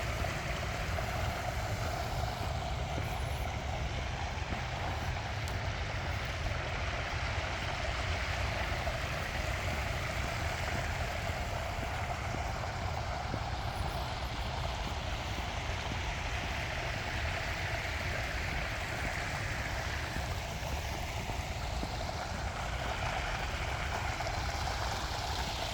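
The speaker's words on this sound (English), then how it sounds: "Multiple waterfalls." Several waterfalls in a terraced garden give a continuous broadband rush of falling water, steady and fairly close throughout with no pauses.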